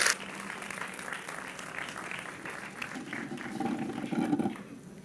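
An audience applauds a speaker at a school orientation talk, steady clapping from a medium-sized crowd that swells slightly near the end, with a voice heard faintly underneath.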